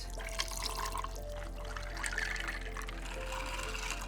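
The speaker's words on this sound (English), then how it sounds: "So what I'm gonna do is take boiling hot tea, pour it over ice" Boiling hot tea poured over ice makes a steady, close liquid pour with splashing and trickling for the full stretch, and no voice can be heard.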